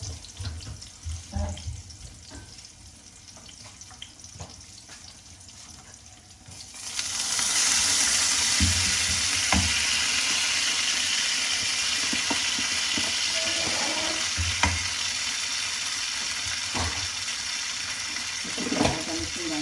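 Saag mustard greens dropped into a hot pan and frying, a loud, continuous hiss and sizzle that bursts in partway through and holds steady, after quieter kitchen clatter and a voice speaking.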